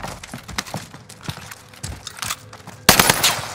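Gunfire in the video game Call of Duty Warzone: scattered sharp shots and short bursts, then a loud, sustained automatic burst near the end, with no talk over it.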